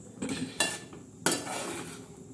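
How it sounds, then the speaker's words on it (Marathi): Thick black-masala fish curry being stirred in a metal pan, with a few sharp clinks of a spoon against the pan rim over a low scraping, cooking background. "असा हलवून घ्यायचा परत एकदा"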